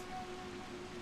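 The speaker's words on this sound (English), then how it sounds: "I'm going to work out a way to take the boats out safely in this rain." Steady rain in the video game Wild Hearts, an even, continuous hiss of falling drops heard alone at moderate level, with a faint sustained tonal hum running beneath it.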